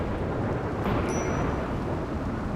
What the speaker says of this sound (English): because it's a rainy thunderstorm